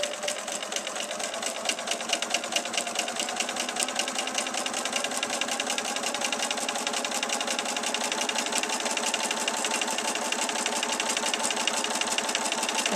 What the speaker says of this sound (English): I'm just letting the sewing machine do the work, and I'm really just guiding it through.